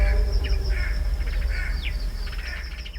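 Birds call by the Zambezi river at Victoria Falls, with a few short squawks and chirps over a steady low rumble of wind or water.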